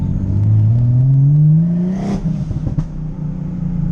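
Twin-turbo Nissan 370z built to 600 hp pulling hard, engine tone climbing steadily in one loud rising sweep, then a sharp shift with turbo whoosh and a lower, burbling drop-off, heard from inside the car.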